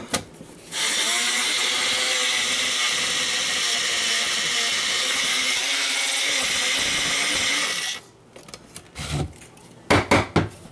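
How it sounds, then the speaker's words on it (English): A countertop grinder whirs loudly and steadily for about seven seconds as it grinds ingredients for hummus, then cuts off, followed by a few clattering knocks and handling sounds. "we're going to grind these up the best we can"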